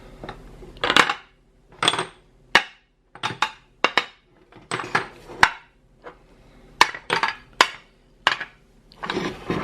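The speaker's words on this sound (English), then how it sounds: "we're going to transfer the jars over to the casserole dish" Glass mason jars clink and knock one after another as they are set down into a casserole dish, a series of sharp, close hard taps.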